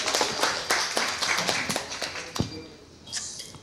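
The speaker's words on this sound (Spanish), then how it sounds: "Un fuerte aplauso para Angélica, por favor." A small audience gives a round of applause on a Spanish-language talk show, a brisk run of claps that gradually thins out and fades.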